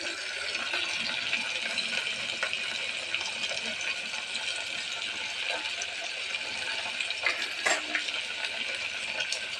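Chopped onions, coriander, curry leaves and green chilies fry in oil, making a soft, continuous sizzle with occasional light stirring clinks.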